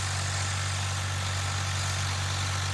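A tractor's diesel engine idles with a steady, low, droning hum that holds an even level throughout, with no other sounds over it.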